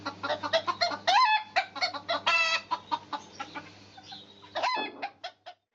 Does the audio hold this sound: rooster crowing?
yes